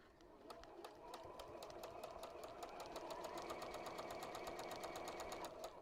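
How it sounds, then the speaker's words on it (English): A sewing machine stitching fabric for a cathedral window quilt block, a steady run of quick rhythmic needle clicks that speeds up slightly, close and moderately quiet. "and then stitch to the end"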